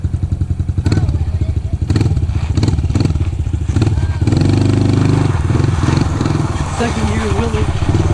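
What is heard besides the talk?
pit bike engine running and revving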